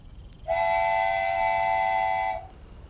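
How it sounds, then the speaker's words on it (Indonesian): A train pulls slowly out of Tanah Abang station, giving a sustained, steady horn blast of about two seconds over a low rumbling background. "kereta pun perlahan beranjak dari stasiun Tanah Abang"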